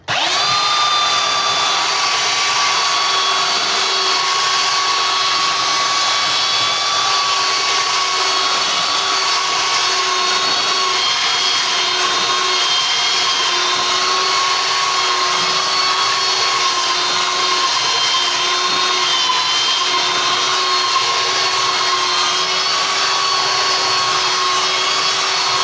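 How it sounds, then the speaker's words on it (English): A power sander working over a glued wooden farmhouse tray, giving a loud, steady whine and whir that runs continuously at close range with no talking. "the glue has dried and we're now going to sand it down."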